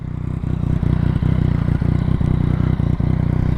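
A Yamaha MT-09 with a Black Widow 200mm exhaust idles steadily close by, a low, even burble with regular pulsing thumps and no voices over it.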